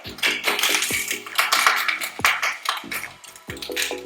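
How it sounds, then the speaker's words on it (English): Bacon pushed across a hot frying pan to one side, a run of sharp metallic taps and scrapes against the pan with steady sizzling underneath, close and fairly loud. "So just moving the bacon to one side"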